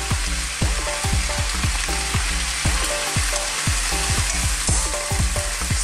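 Vegetables with sweet chili and black pepper sizzle loudly in a wok under a constant hiss, broken by rhythmic scraping strokes as they are stirred.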